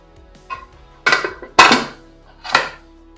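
A metal container is set into a pressure cooker with water while mango panna is being made, giving four sharp metallic clinks and knocks spaced apart, close and loud against near silence.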